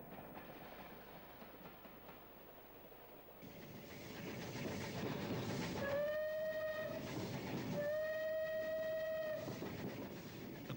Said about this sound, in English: Approaching the A351 Nursery Road Bridge, the loco prepares for the 1 in 76 climb to Haycraft's Lane.